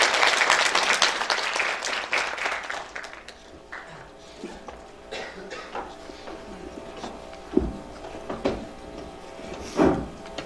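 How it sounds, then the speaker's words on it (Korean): An audience at a keynote lecture event applauds to welcome the speaker, with dense clapping for about three seconds that thins out into scattered claps and a few knocks. "여러분 큰 박수로 맞아주시길 바랍니다."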